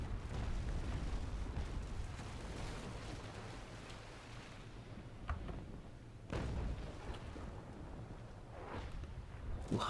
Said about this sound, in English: Still, we should get a lovely little broadside here.